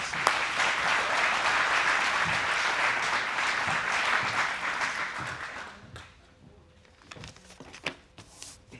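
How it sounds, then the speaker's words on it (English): An audience applauds Judge Clayton McCall at a community celebration and Smart Justice graduation, a loud, dense wash of clapping for about six seconds that then thins to a few scattered claps. "give him a round of applause, please"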